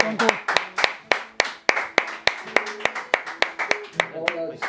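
Scattered clapping from a small audience at a live concert, for the band, with a handful of distinct sharp claps in an uneven rhythm, while people talk in the background.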